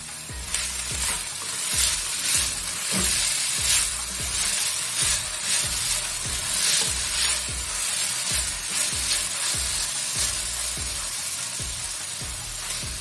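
Hakka noodles sizzle and hiss in a hot pan as they are stir-fried with salt, a loud continuous frying sound with repeated scraping strokes of stirring, close and without talk.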